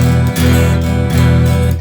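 Guitar strummed too hard with the pick digging into the strings, giving a few heavy, harsh chord strokes in quick succession, loud and close with no talking.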